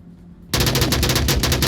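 Rapid automatic gunfire from a competitive tactical shooter match erupts after a brief quiet moment, with dense repeated shots continuing loudly to the end.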